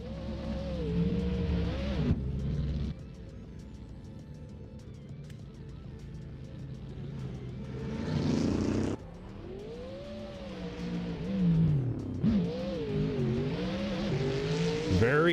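A BMW drift car screams through a competition qualifying run, its engine revving hard and rising and falling in pitch with bursts of tire squeal, heard fairly near under light commentary.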